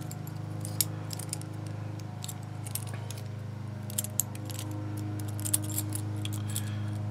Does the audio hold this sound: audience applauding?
no